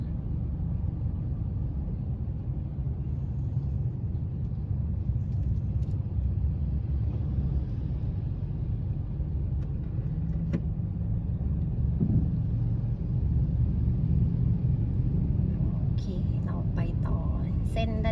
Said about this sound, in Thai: เส้นนี้ก็จะแออัดไปด้วย รถยนต์มอเตอร์ไซค์นะคะ